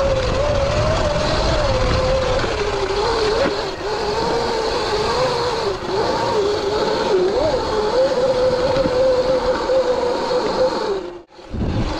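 A stock Sur-Ron X electric dirt bike rides through sand, its motor a loud, continuous whine that rises and dips slightly with throttle and is overlaid by wind roar, then cuts briefly near the end.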